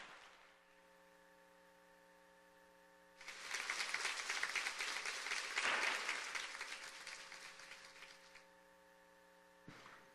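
A crowd bursts into applause over a low electrical hum, clapping steadily for several seconds before it dies away.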